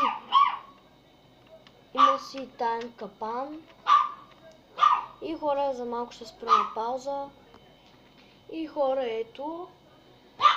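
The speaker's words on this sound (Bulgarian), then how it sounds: "ако се чуе някой да лай, това е кученцето ми просто тук чу някакъв шум" A small pet dog yips and barks in short, sharp bursts scattered through the stretch, mixed in with a person talking nearby indoors.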